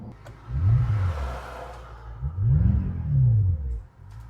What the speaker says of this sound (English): Exhaust sounds a little fake.